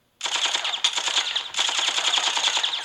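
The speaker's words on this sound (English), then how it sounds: "Igus shot away your restraints for a machine gun." Rapid machine gun fire from a video game battle in Persona 3 Portable, two sustained bursts of dense, rattling shots with a brief break between them, loud and close with no talking.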